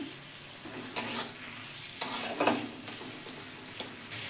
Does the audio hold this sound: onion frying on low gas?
yes